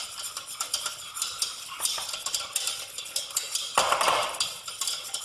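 A spoon stirs stock into a thickening fish pie sauce in a pan, giving repeated scraping, clinking strokes against the metal at close range with no voices.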